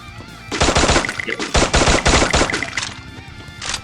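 Rapid bursts of automatic gunfire from a Free Fire match as players land headshots, loud and dense in several volleys with brief gaps, no talk over them.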